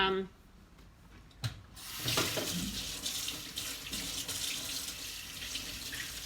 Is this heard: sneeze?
no